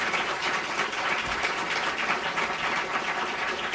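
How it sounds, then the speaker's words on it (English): Audience applause for four panelists at a Brookings debate on the Iran nuclear deal, a steady, dense clapping from a room full of people that continues evenly for several seconds. "Let's give a round of applause to our four panelists."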